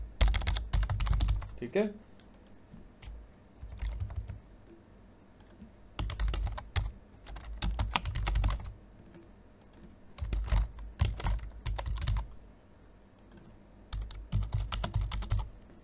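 Fingers type on a computer keyboard while filling in an online job application form, in several bursts of rapid, close clicking separated by short pauses, with someone briefly speaking.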